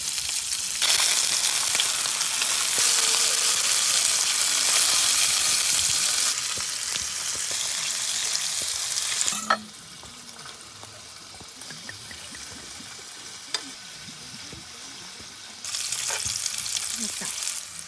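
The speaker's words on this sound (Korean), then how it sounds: "삼겹살 구울 건데도 기름 부은 거?" Pork belly sizzles loudly in an oiled pan at a campsite tent, a dense hiss of crackling fat that drops to a softer fry midway and surges again near the end, with occasional clinks of utensils.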